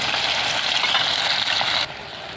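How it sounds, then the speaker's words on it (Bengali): Marinated rohu fish frying in hot oil in a pan, a steady, close sizzle that drops noticeably in intensity near the end, with no voices. "ম্যারিনেট করা মাছটা ভেজে নেব।"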